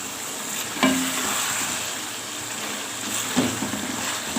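Masala roasting in ghee in a pot for masala pulao, a steady close sizzle and fry with two brief stirring scrapes of a spoon against the pot.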